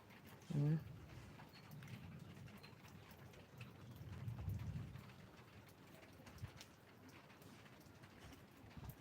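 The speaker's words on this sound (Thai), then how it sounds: "ฝนตกเฉอะแฉะ ตกเฉอะแฉะนาะ" Steady rain falls as a soft, broadband wash throughout, with a brief voice or nearby knock near the start and a slightly heavier swell of patter midway.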